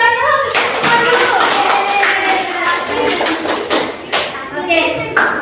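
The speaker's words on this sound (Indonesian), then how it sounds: "tepuk tangan banyak-banyak untuk semua dulu" Young primary-school children clapping together in a classroom, a burst of quick irregular hand claps mixed with excited kid voices and a few louder taps near the end.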